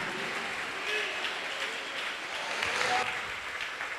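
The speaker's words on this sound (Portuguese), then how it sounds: "Pode dar aplausos para Jesus." A church congregation in a Brazilian worship service applauds, a continuous wash of many hands clapping at moderate volume for about four seconds, with voices faintly mixed into the crowd noise.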